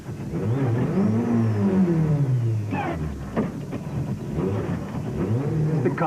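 A Toyota rally car beached on a rough, muddy stage revs its engine hard in repeated rising and falling surges, loud and close, with whirring strain as it struggles to get free.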